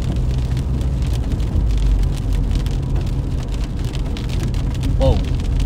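Rain from a passing thunderstorm drums steadily on a moving car during a Michigan storm chase, with road rumble and engine noise underneath and a voice speaking over it.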